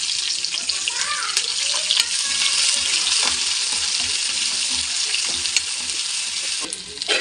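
Chana dal and urad dal frying in hot oil in a pan while being stirred, a loud continuous sizzle and hiss with occasional scrapes, close up and without speech.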